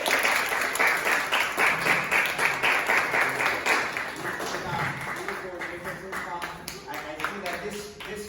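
Applause from a school crowd at a seventh-grade Sukkah fair, dense patter filling the room for several seconds, with talk and voices mixed in throughout and the clapping thinning slightly toward the end.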